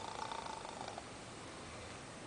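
A voice imitating a dog snoring in a told story, a low rumbling, purr-like rasp that pulses briefly at first and then settles into a soft, steady drone, close and quiet.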